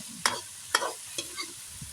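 Tofu and string beans sautéing in a pan, the mixture stirred in a few distinct scrapes at a steady pace over a quiet, low sizzle, with no one talking.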